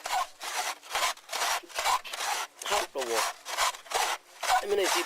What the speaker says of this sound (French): il faut tourner le bambou très fort, bien serré, longtemps, jusqu'à ce que la rainure circulaire soit bien marquée